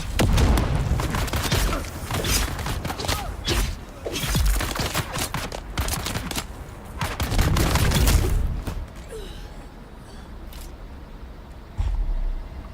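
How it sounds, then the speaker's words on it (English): Video game combat with a grenade explosion amid gunfire: dense, loud bursts of shots and booms come in clusters, with a heavy low rumble near the middle, then the noise thins out before a final burst. "That was a crazy good grenade."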